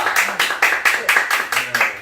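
A few people clap together in a steady run of about eight sharp claps, close and even in rhythm, in a casual gathering with an elderly man who served in the army in the 1980s.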